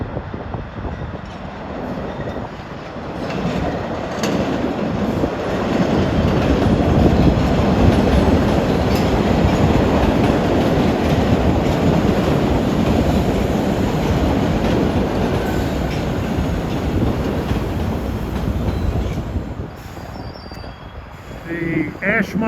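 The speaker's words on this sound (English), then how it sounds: "here we have a Redline train from Ashmont" A Boston MBTA Red Line subway train from Ashmont rumbles past, swelling to a loud, sustained roar of wheels and rail clatter, then easing off, with a voice briefly audible.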